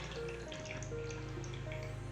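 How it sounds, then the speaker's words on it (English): Pot roast cooking liquid from a venison roast pours into a fat separator, a steady trickling, dripping flow of liquid close by that continues throughout with no talking. "And then I'm going to pour the liquid into the fat separator"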